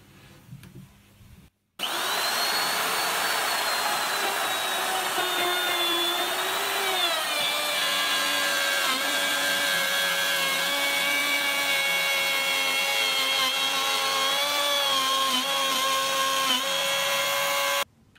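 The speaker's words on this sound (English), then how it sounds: "now I'm just going to turn on, plunge into the wood, and then route the little dado" A plunge router guided by a circle-cutting jig cuts a dado into wood, starting abruptly and running as a loud, sustained high whine with shifting pitch as it cuts, then stopping.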